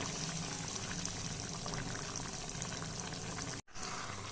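Hyderabadi chicken curry bubbles in a covered pot over a low flame, a continuous close, soft burbling simmer that cuts out briefly near the end, with no speech.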